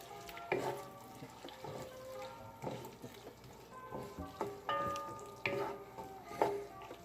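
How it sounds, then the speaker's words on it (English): Onions frying in oil in a pot while being stirred, a steady low sizzle broken by repeated scraping and clacking of a utensil against the pot, close and fairly quiet. "Then I'm going to add in my onions."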